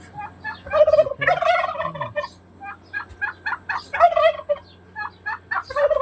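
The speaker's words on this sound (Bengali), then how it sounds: "এই যে পাশেই আছে অনেকগুলো তিত মুরগি।" A flock of guinea fowl calling beside a date palm orchard, harsh repeated cackling bursts in an uneven rhythm, close and loud, continuing throughout without any talk.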